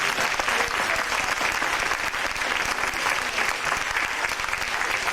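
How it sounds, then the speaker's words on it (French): Loud, sustained audience applause, dense continuous clapping from a large crowd filling the whole stretch without a break. "On peut les applaudir très fort."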